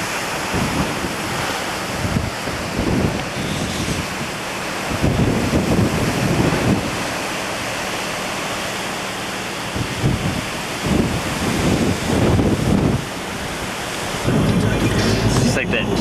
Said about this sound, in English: big bad storm.